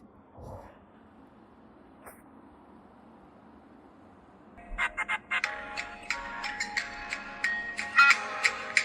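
A phone ringtone starts after a few quiet seconds with a faint knock, its tinny melodic tones repeating close and fairly loud.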